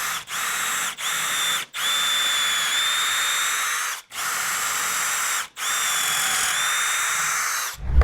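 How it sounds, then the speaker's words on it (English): A power drill bores pocket holes in wood, whining at high speed in five long bursts separated by brief pauses, close and loud, with no talking. "so time to drill some holes"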